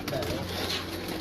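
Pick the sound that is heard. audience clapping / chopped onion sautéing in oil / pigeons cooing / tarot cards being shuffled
pigeons cooing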